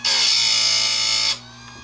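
Power tool sharpening chainsaw chain teeth, a loud high buzzing grind lasting just over a second before cutting off, leaving a faint motor hum.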